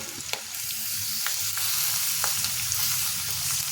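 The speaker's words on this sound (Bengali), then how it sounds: "এখন ভাজতে ভাজতে ক্যাপসিকামটা নরম হয়ে গেছে, এর মধ্যে দিচ্ছি কেটে রাখা টমেটো।" Capsicum and chopped tomatoes frying in a pan, a steady close sizzle with a few sharp crackles and the occasional stir, no talking.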